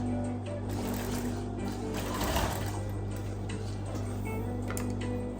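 A sewing machine runs a straight stitch along folded trouser back-pocket fabric, a steady close whirring hum with fast even ticking that carries without a break throughout.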